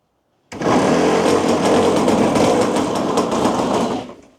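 An old barn-find go-kart engine, decades idle, fires up and runs with a loud, steady high-pitched buzz for about three and a half seconds, then quickly dies away.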